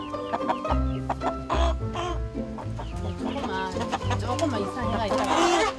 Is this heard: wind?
no